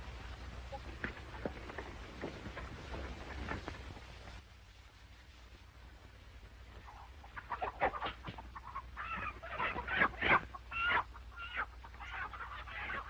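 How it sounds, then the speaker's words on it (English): Chickens cluck and squawk nearby, growing busier and louder toward the end, over a low outdoor hum with faint voices in the background. "help me find that rooster."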